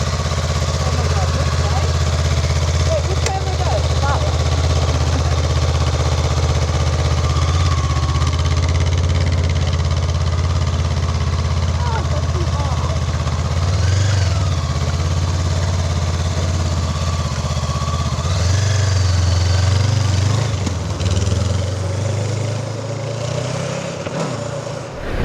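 A 2024 Honda CL500 Scrambler parallel-twin motorcycle runs steadily at low revs on a rough country road, its throbbing engine continuous and close, with a rider talking over it.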